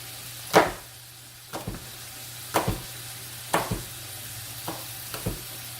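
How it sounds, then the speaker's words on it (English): Bacon sizzles in a pan under a low steady hum, with sharp clanks or taps roughly once a second. "You hear the bacon sizzling already, which is excellent."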